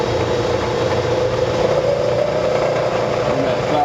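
A machining spindle running steadily at 1,000 RPM, about to cut black ABS plastic for a phone tripod mount, giving a continuous even hum and whine with no breaks.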